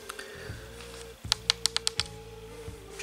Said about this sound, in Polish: Przyciski chodzą fajnie, słychać kliknięcie.